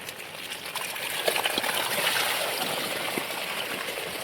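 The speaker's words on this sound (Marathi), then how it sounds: "या पाईपाने पाणी काढावं लागतं." Water runs steadily from a pipe beside a farm pond in the rainy Sahyadri hills, a continuous close trickling gush that stays even and unbroken throughout, with no voices.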